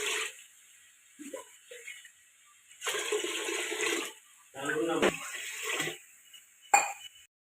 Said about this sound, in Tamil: அதுக்கு 4 கிளாஸ் தண்ணி ஊற்றிக்கலாம்